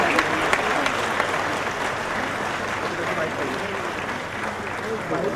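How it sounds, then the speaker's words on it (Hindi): An audience at the Savdhaan India Samman Awards 2016 show applauds in sustained, dense clapping that fills the hall evenly throughout, with voices faintly mixed in. "ये तालियां रुकनी नहीं चाहिए"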